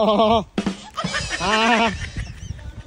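A goat cries out loudly with a wavering, bleating call, followed by a second drawn-out bleat, with some rustling and movement noise around it.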